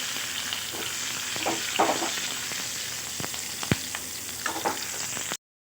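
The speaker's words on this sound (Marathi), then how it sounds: "तर मिरच्या पण चांगल्या भाजल्या आहेत आपल्या तर कांदा घालून घ्यायचा आहे" Green chillies and onion fry in a pan for chivda, giving a steady close sizzle with occasional sharp pops and scraping stirs, and no talking.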